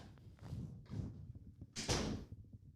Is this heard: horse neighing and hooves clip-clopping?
no